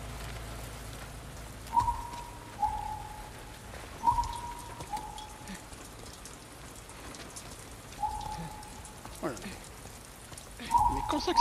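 Rain falls in the video game The Last of Us Part II, a soft, steady hiss of rainfall with a few brief, thin whistling chirps rising above it now and then.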